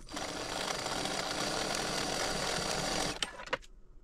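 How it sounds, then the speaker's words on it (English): A sewing machine runs steadily as it stitches across the bottom of a small purse, a continuous close whir for about three seconds before stopping with a few brief clicks. "So I'm just going to stitch across the bottom for right now."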